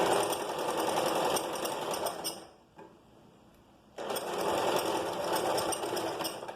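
A sewing machine stitches a straight seam on a flared skirt in two close, loud runs separated by a brief quieter pause, resuming at full speed.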